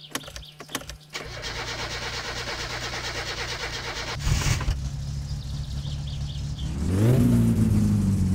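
A home-built car with a replaced muffler, header and mid-pipe cranks and starts with clicks, settles into a steady idle, then revs up loudly near the end, close by.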